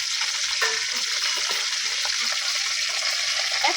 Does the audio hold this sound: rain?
no